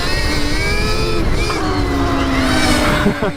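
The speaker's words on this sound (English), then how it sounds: "I'm barely twisting the throttle and it starts doing a burnout" A Stark Varg EX electric dirt bike spinning its rear tyre in a burnout at light throttle, giving a steady whining motor tone with rising pitch and loose, gritty roar, loud and close throughout.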